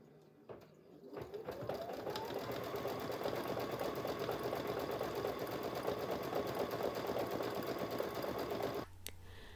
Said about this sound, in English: I was experimenting with my embroidery machine